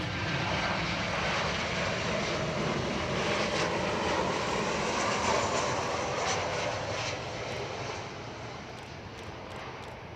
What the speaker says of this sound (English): Here is Qantas coming in. I think it was from Sydney.